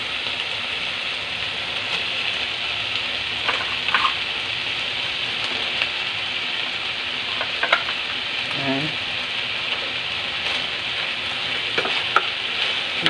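Cabbage, chayote, beans and snow peas sauté in oyster sauce in a pan, giving a soft continuous sizzle with occasional light clinks and stirring scrapes, close but moderate in level and without talk.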